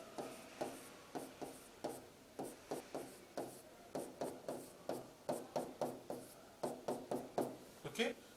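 A pen or marker writing codes by hand on a board, with a quick steady series of short scratchy strokes and taps, close and fairly soft.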